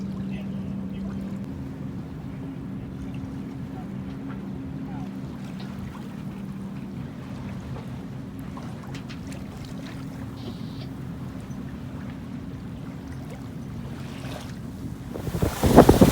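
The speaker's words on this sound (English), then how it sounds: "I'm gonna get to sail up the harbor at least for a half hour or so." A sailboat moves up New London Harbor during a night race, with steady wind rush over the microphone, a low rumbling drone and water sounds throughout, and a brief louder buffet near the end.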